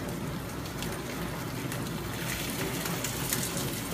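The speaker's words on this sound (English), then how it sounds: "You hear that simmer, and that means the oil's really hot." Hot oil over medium heat sizzles steadily around chicken tacos frying in a pan. The crackling hiss is continuous and even, like close rain, with small pops scattered through it and no voices.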